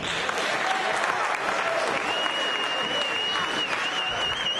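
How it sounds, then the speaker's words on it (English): Crowd at a wrestling event applauding, a dense continuous clapping that stays loud and even throughout, with no clear voices over it. "once again, give yourselves a round of applause for showing up."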